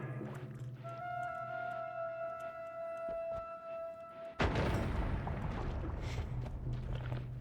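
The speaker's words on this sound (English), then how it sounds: "the power of the explosion leaves something to be desired" Explosion in the video game Concord 2: a sudden loud blast bursts in midway, after a steady droning tone, and leaves a dense, sustained roar of fire and rumble.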